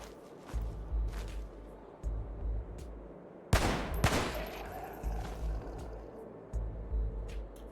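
Gunfire from an AR-15 in the video game Cataclysm DDA: rapid bursts of rifle shots with one sharp louder volley mid-way, over a low rumbling game background, no voices.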